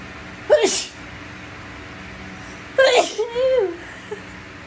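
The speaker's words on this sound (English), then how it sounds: "Girls sneeze." Girls sneeze twice, one sharp burst and then a longer sneeze with a trailing whimpery voice, close and clear over a quiet background.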